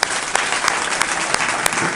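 Audience clapping at a Marathi kirtan, a dense, steady round of applause from a gathered crowd, close and loud for the whole span with no voices over it.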